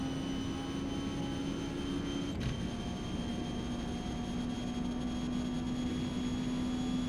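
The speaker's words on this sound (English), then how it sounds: "the only thing, or almost the only thing I can hear is the turbocharger" In Forza Motorsport, a steady high-pitched turbo whine hums over a constant low engine drone, heard from inside a car while drifting, with no talking.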